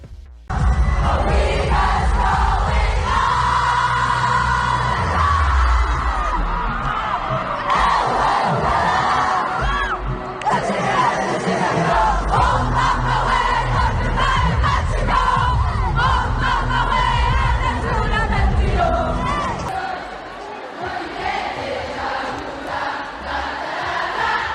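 Huge crowd at a concert in Paris yelling and cheering continuously, a loud dense roar of voices that swells and holds for the whole stretch before easing slightly near the end.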